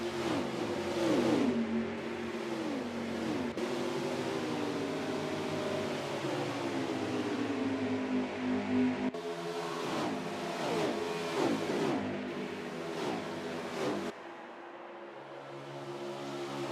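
Several race car engines in a racing video game at Auto Club whine and rev, pitches rising and falling as they shift gears, continuous and loud, ending in a steadier lower hum.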